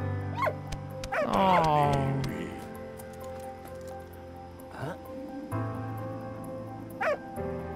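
A dog in the World War I game Valiant Hearts: The Great War gives a few high, sliding whimpers and yelps, moderately loud, mixed with game sound and someone talking over it.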